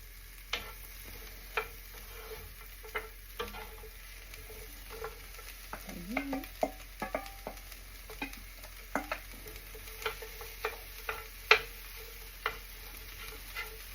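Food being stirred around a pan in leftover seasoning oil: a soft continuous sizzle with a string of light, irregular taps and scrapes from the utensil against the pan, close and quiet with no talking.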